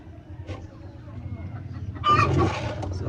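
Broiler chicken chicks clucking inside a pen, faint scattered peeps and clucks with a louder burst of chirping near the end, under a low background.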